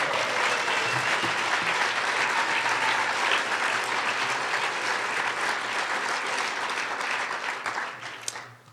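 Sustained applause from a big audience at the Wyoming Governor's Arts Awards 2022 ceremony, thick and even for several seconds before tapering off at the end.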